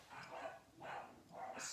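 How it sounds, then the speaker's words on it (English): Several dogs barking indoors, three quick bursts of yapping at a distance, faint and fairly evenly spaced. "My dogs are going crazy."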